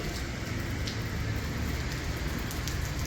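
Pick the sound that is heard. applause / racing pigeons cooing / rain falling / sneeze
rain falling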